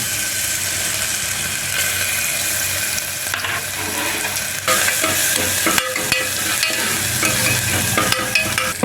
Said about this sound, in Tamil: நல்லெண்ணெய் விட்டு வேக விடுங்க அதில் இஞ்சி பூண்டு அரைச்சி வச்சுருக்கோம்ல அதை போட்டு வேக விடுங்க